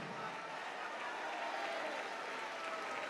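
Congregation applauding during a lively church service, a steady, even wash of clapping filling the room, fairly quiet and continuous with no clear voices.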